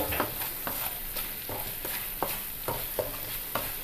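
Sweet coconut laddu mixture stirred in a pan over a low flame: a steady run of regular scraping strokes, roughly two per second, against a soft sizzling background, close and moderately quiet.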